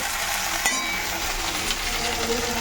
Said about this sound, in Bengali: মাথাটা একটুখানি ভাজতে থাক